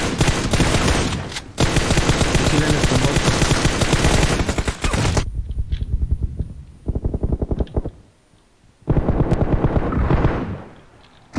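PUBG Mobile gunfire and explosions on the Livik map: loud, dense automatic bursts roll almost continuously, then thin into scattered shots and a short lull before another heavy volley.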